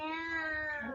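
A cat gives one clear, drawn-out meow lasting about a second, close and fairly loud, with no talk over it.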